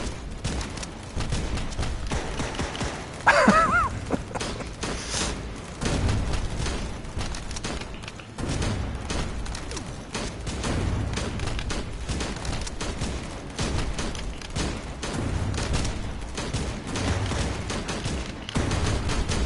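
Enemy artillery fire and explosions in a PSVR 2 war game: repeated booms and bursts of gunfire rumble throughout, with heavy low thuds and a denser volley early on, constant battle noise.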